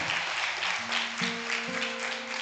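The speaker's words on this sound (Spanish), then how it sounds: "Un aplauso." Applause from a church congregation at a ministry service: moderate, steady clapping over sustained organ or keyboard tones that shift pitch, the music continuing under the clapping.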